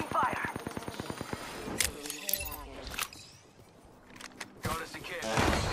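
Gunfire in Apex Legends ranked play, starting with a rapid automatic burst of evenly spaced shots, then scattered louder single cracks and impacts, with character callouts spoken over parts of it.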